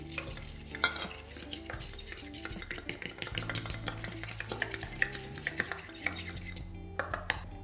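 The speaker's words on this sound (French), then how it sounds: "on verse notre gélatine dans notre eau, on mélange et on laisse de côté" Gelatine being stirred into water, a spoon clinking and scraping rapidly against the sides of a bowl in a busy, close metallic rhythm.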